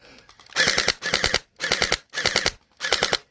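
A Yagee DGR gel blaster fires in five rapid full-auto bursts during an outdoor battle royale game, loud and close, with short pauses between the rattling volleys.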